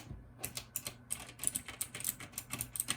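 Close, quick typing on a Logitech G513 mechanical keyboard, a steady patter of crisp key clicks with small pauses and no talking.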